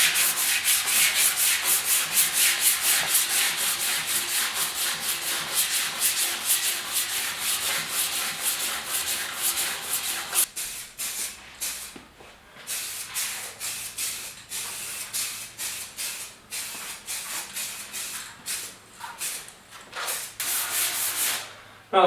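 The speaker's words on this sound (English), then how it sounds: "You sand it with 320" Steady, raspy scrubbing of 320 grit sandpaper on the fender of a 1956 Ford pickup, loud and close with a rhythmic back-and-forth stroke that runs nearly continuously and briefly breaks up partway through.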